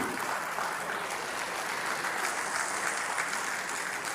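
Audience applause at a World Photography Day event held by Puri beach photographers, a steady wash of many hands clapping continuously throughout without pause, moderately loud and unaccompanied by talk.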